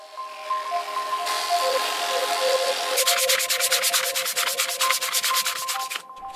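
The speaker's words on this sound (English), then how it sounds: "Then I sand the whole thing using my disc grinder." A disc grinder sands an HDPE plastic mallet with 80 to 240 grit discs, a steady close abrasive whir with a faint motor hum that becomes rapid rhythmic scraping pulses partway through, with no talking.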